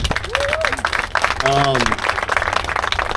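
Audience members at a San Diego Climate Week panel on Tijuana River Valley water pollution clap in a scattered patter, with voices speaking over the applause.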